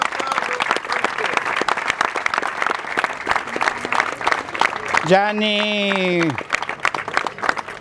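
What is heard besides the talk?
crowd applause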